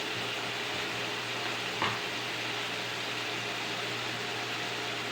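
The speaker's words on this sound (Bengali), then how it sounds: "আদা রসুনের পেস্টটা হালকা করে একটু ভেজে নিলাম" Ginger garlic paste fries with spices in a pan, giving a dense, even hiss of sizzling oil that holds steady the whole time, with one brief soft clink near the middle.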